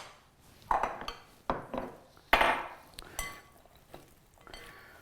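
Prepared apples stirred in a bowl with a utensil, producing several separate clinks and knocks against the bowl at irregular intervals, close and fairly quiet, with no talking.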